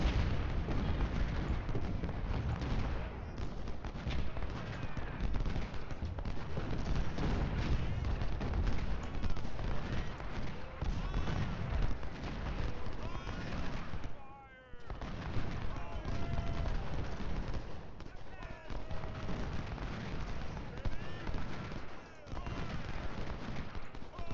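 Union artillery and musket fire roar through a Civil War battle at Cedar Mountain in the game Ultimate General: Civil War, a dense, continuous barrage of booms and crackling volleys with one brief lull midway.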